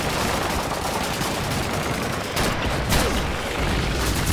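Continuous gunfire from the World War II video game Call of Duty 2 during the Hill 400 assault, with dense overlapping rifle and machine-gun bursts that stay loud and steady throughout.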